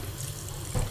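Water runs steadily from a tap into a cooking pan, a continuous close splashing stream that swells briefly near the end, with no voices.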